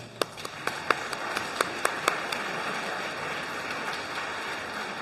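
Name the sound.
audience applause at an assembly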